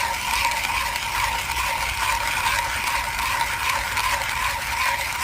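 A hand coffee grinder crushing Ethiopian Guji beans, a loud, close, continuous rasping burr grind with a fast ratcheting texture, with no talking.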